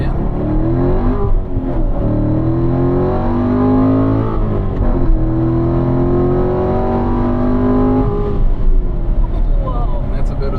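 A 2015 Corvette accelerating on a race track, heard from inside the car, its engine note rising steadily and droning loudly throughout.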